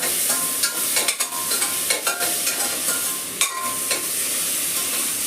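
Onions, green chilli and tomato sizzle in a pan under constant vigorous stirring, with repeated scraping strokes of the spoon over a continuous close frying hiss.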